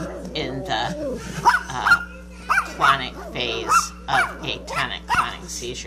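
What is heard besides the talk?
dog barking in the room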